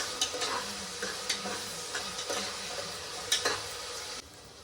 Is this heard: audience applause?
no